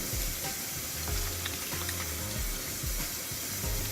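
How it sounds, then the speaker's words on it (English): Steady rushing water pours continuously, like a tap running into a sink, with faint clinks and knocks underneath. "Turn on the water."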